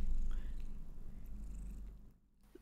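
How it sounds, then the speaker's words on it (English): A cat purrs close by in a steady low rumble, fading slightly toward the end with a brief quiet gap. "She's purring so much. And she's so loud."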